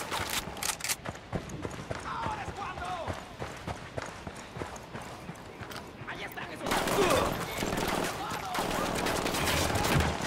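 Bursts of gunfire in the video game Ghost Recon Wildlands, sharp repeated shots and rattling volleys mixed with game sounds, with voices talking over the action.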